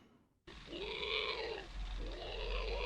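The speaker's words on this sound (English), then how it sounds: "Pig squealing?" A pig squeals in harsh, loud bursts that begin abruptly after a moment of near silence, with no talk over them.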